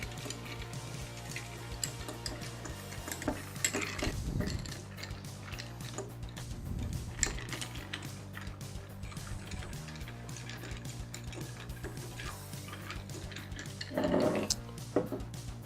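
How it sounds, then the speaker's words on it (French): A bar spoon stirs an El Presidente cocktail in an ice-filled mixing glass for about fifteen seconds, a steady run of close, clinking ice rattles with no talk. "Et on mélange pendant une quinzaine de secondes."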